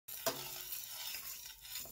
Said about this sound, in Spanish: Aquí tengo una cacerola, le vamos a agregar un poquito de aceite y ahí vamos a poner a dorar nuestro arrocito.